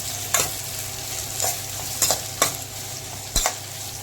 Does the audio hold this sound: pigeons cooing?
no